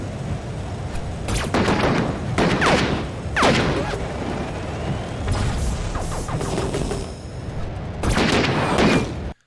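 Video game weapons blast in a dense run of loud gunfire and explosive booms, with sharp repeated shots, heavy impacts and a zapping sweep, cutting off abruptly at the end.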